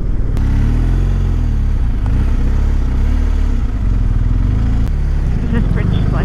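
Motorcycle engine running steadily while riding across a covered bridge on a January outing, a continuous mid-pitched drone with occasional clattering, loud and close throughout.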